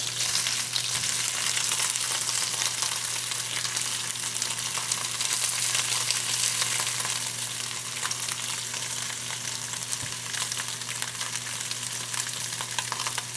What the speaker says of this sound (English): Now I want to get a good sear. So I'm going to use a press.